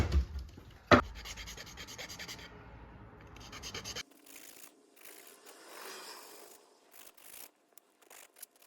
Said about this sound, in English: Filing.